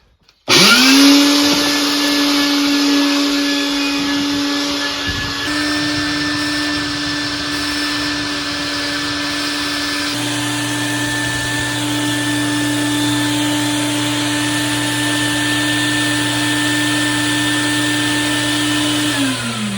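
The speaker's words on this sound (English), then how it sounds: "I'm going to get the vacuum and suck it out." A wet vacuum motor starts up and runs with a loud, steady whine, close by. Its tone shifts partway through as it sucks water and sludge out of a pond.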